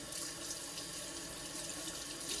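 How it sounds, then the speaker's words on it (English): Cold tap water runs steadily into a sink, splashing over a cutting board being rinsed after raw chicken, a continuous close hiss with no talking. "So I'm just gonna give this a little rinse with cold water."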